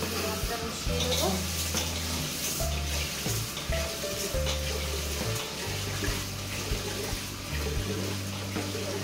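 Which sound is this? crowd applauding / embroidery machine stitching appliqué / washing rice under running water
washing rice under running water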